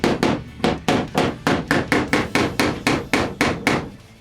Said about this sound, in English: So just take a hammer. These panels are stapled onto the frame.